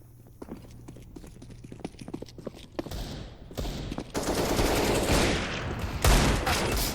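Gunfire in the CS:GO video game starts as scattered single shots and clicks, then builds into loud, dense, continuous bursts of rapid firing.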